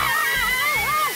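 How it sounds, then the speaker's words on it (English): Cartoon water blaster letting off a splashy whoosh of spray with sloshing water, loud and close, running for about a second alongside a bright, warbling tonal layer. "Water blast!"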